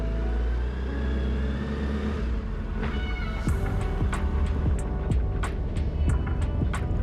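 A Suzuki Hayabusa motorcycle engine runs close by, first a low steady rumble and then a series of sharp, evenly spaced revs or pops.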